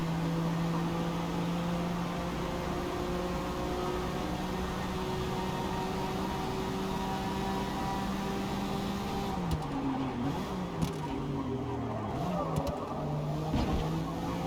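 A Honda NSX race car in Forza Motorsport holds a sustained, steady engine drone for several seconds, then the pitch dips and rises through braking and a downshift into a corner before climbing again, with faint tyre and gear noise.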